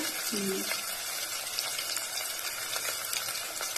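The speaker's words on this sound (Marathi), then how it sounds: "आता मी कांदा हिरवी मिरची लसूण लय गरम झालं तेल त्याच्यामुळे टाकून घेतली" Onion, green chili and garlic sizzling in very hot oil, with cloves already in the pan, a dense steady hiss with faint crackles, near and even throughout, plus a brief low tone near the start.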